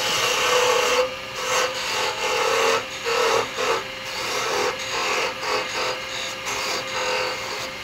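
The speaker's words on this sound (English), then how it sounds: "Don't spend too much time on sanding." A turned wooden nutcracker is sanded on the lathe, giving a continuous raspy scratching that swells and dips in rapid strokes, close and fairly loud with no talk.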